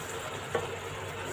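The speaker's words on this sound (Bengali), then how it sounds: "আমরা এই মশলাটাকে আরো ভালো করে কষিয়ে নিব" Spice paste masala sautéing in oil for a vegetarian pointed gourd (potol) curry gives a soft, steady sizzle, faint and close, with a brief stir-like knock partway through.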